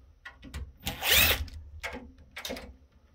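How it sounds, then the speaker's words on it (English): Power drill backing out screws while a Palo Alto Networks PA-5060 enterprise firewall is taken apart, running very close and loud in short whirring bursts, with one long strong burst in the middle. "the drill's really close to the mic"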